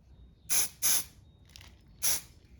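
Mould release sprayed into a mould for resin casting, three short hissing aerosol bursts with a faint softer puff between them, close and otherwise quiet.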